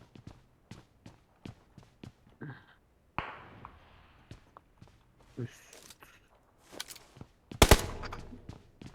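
PUBG Mobile gunfire on the Miramar map: sharp single shots and short bursts at irregular intervals, mostly distant, with footsteps in between and one loud close burst near the end.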